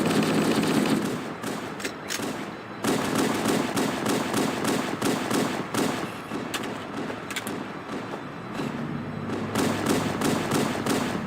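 Rapid pistol fire from Halo: Combat Evolved, loud sharp shots in quick bursts with short pauses, repeating throughout and heard alone without talk.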